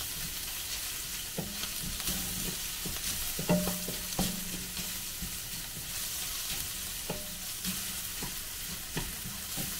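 Garlic sautés in a pan with a light teriyaki sauce, giving a steady soft sizzle broken by scattered clicks and scrapes of stirring, close and fairly quiet, with no talking.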